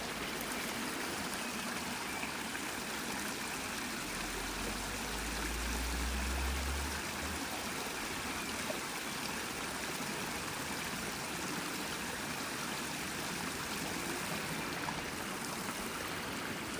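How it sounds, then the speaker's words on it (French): A small stream trickles beside a mill in the countryside, a steady, close water wash that holds even from start to finish, with no talk. "me rapprocher du petit ruisseau que tu vas pouvoir bien entendre"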